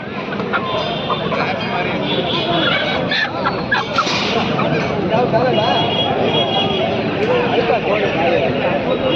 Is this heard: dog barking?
no